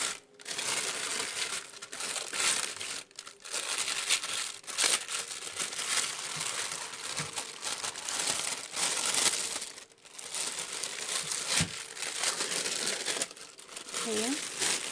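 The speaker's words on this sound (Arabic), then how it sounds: "هنبدأ بقى نشيل الكيس دوت." A plastic bag is peeled off a block of frozen homemade butter, giving continuous close crinkling and crackling with a few sharper tearing bursts, while someone speaks over it.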